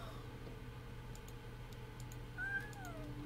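A cat gives a single faint meow partway through, set far back behind a steady low room hum, with no one talking.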